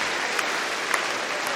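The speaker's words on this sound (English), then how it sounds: "Getting a very sympathetic round of applause there" Sympathetic crowd applause in an indoor arena at Crufts dog agility finals, steady clapping from a large audience with a few sharper claps standing out, no speech over it.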